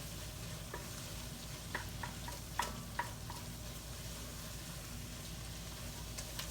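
Tomato paste cooks with flour and onions in a pot for oxtail gravy, a faint, steady low sizzle with a few soft stirring clicks scattered throughout.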